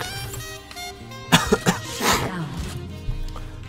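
A few harsh coughs in quick succession near the middle, close and fairly loud, over a low background hum.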